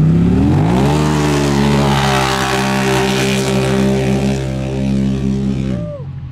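A Stage 6 Can-Am Pro XP UTV with a big turbo kit races down a drag strip, its loud, close engine roaring at a strong, steady pitch that climbs slightly, then drops away at the end.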